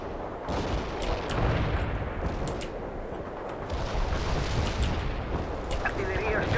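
In the video game World in Conflict, an artillery barrage rumbles in dense, continuous booms and blasts, with sharp cracks scattered over a heavy low roar. Voices speak over the bombardment.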